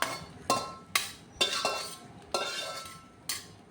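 Metal spatula scrapes and clanks in a pan as fried egg is tipped into rice for egg fried rice, with several sharp clinks spaced about half a second apart over a low sizzle.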